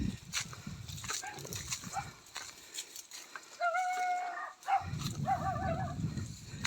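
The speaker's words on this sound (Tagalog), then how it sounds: "may aso" A dog in a forested mountain area gives a few barks and drawn-out, whining calls at moderate distance, set against rustling background noise.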